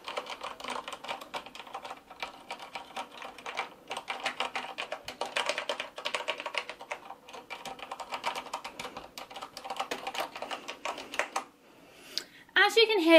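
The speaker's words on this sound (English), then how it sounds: "To give you a quick demonstration of the noise levels of the keyboard, I'm going to do a quick type test for you as an example." Quick typing on a ROCCAT Ryos MK Pro mechanical keyboard, a fairly quiet, continuous patter of key presses at close range, pausing briefly before a final burst of louder clatter.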